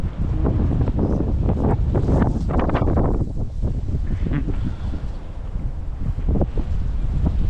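Loud, gusty wind buffets the microphone in heavy rumbling blasts beside a stormy river while fishing, with splashing water and waves underneath.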